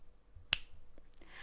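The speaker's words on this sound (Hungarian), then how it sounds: "Csettint a manó" A single crisp finger snap sounds as an effect in a Hungarian fairy-tale audiobook, close and sharp against near silence, with a couple of soft ticks after it.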